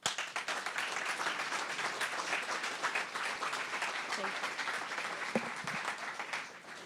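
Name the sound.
audience applause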